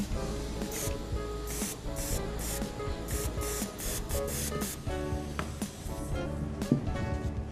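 Water-based colour coat sprayed onto leather during a scratch repair, a series of short, close hissing bursts in an uneven rhythm, with a low background hum and no talk.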